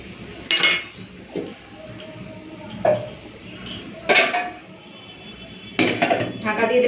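A lid set down on a pot of freshly cooked khichuri on a gas stove, giving a few separate metallic clinks and clatters close by.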